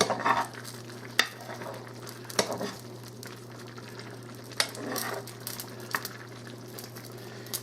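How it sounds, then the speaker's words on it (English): Pasta and meat cooking together in one pot get stirred, with a low bubbling simmer running steadily underneath and a few sharp spoon scrapes and knocks against the pot at irregular intervals. "be sure and stir this frequently so it doesn't stick"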